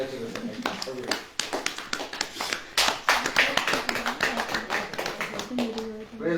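A church congregation clapping hands during a worship gathering, sharp claps in an irregular, busy rhythm close by, mixed with people talking and singing voices throughout.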